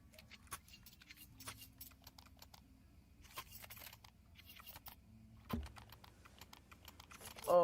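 Someone types on a computer keyboard during an online Counter-Strike match, producing soft, close clicks in irregular bursts with short pauses between them and no one speaking.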